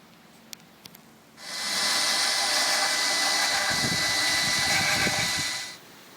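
Angle grinder grinding damaged metal flanges on a 1966 Mustang under restoration: a loud, steady high-pitched whine that starts abruptly and runs for several seconds before cutting off, after a few faint knocks.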